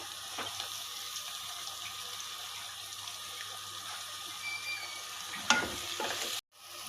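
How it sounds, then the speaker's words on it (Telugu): Kasuri methi frying in oil in a pan for chicken curry, with a steady soft sizzle and faint stirring throughout and a brief clatter near the end. "ఇప్పుడు ఆయిల్లో కస్తూరి మెంతి కూడా వేసేద్దామండి."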